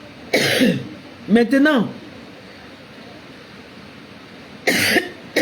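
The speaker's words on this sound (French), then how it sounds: "Le soir comme ça, je tousse beaucoup." Two sharp coughs, close and loud, with a brief spoken word between them and a quiet pause before the last cough.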